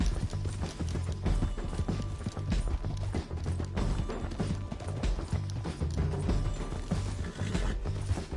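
Rapid, continuous hoof clopping of a galloping horse in the video game Red Dead Redemption 2, steady and close, with mechanical clatter mixed in and no pauses.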